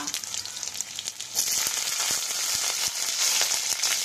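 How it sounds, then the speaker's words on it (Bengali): Black cumin seeds, garlic and whole green chillies frying in hot oil for a Bangladeshi taro-leaf bhorta, giving a steady, bright close sizzle that swells after the first second and keeps crackling with small pops throughout. "তেল গরম করে এবার দিয়ে দিচ্ছি কালো জিরে, রসুন, আর দিচ্ছি গোটা গোটা কাঁচা লঙ্কা"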